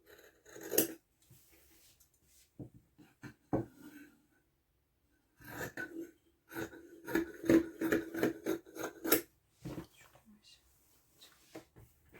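Scissors cut fabric for a Christmas stocking in a close series of crisp snips and rustling slices, with a few quiet gaps between the runs of cuts.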